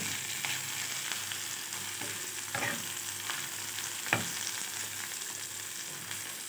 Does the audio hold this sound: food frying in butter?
yes